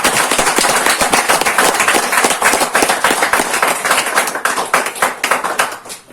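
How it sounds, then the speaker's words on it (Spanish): A church congregation claps loudly in praise, with many sharp, close hand claps in a fast, dense patter that carries on steadily before tapering slightly at the end. "Un fuerte aplauso al Señor."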